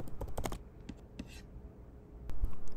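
Typing on a Mac computer keyboard: a quick run of sharp key clicks, a pause, then scattered single taps over a low, steady room hum, fairly quiet and close.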